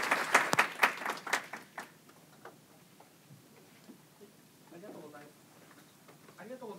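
Audience applause at the close of a baseball statistics talk at a Python programming conference, a burst of sharp claps over the first two seconds fading quickly to sparse scattered claps and quiet room murmur.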